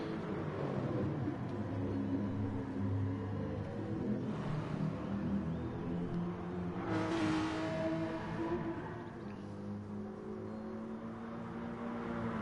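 A Porsche race car's engine drones and revs through corners in a racing game, a sustained mid-level whine that swells as it accelerates and eases slightly near the end.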